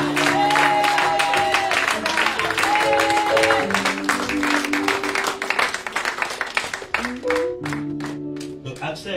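A church congregation claps and cheers in a steady, dense wash of applause that runs throughout, while tonal music and voices carry on beneath it and the noise thins toward the end.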